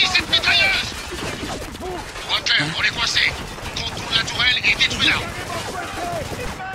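Video game Spec Ops: The Line, with bursts of machine gun and rifle fire and impacts crackling through a battle, mixed under loud shouted in-game dialogue.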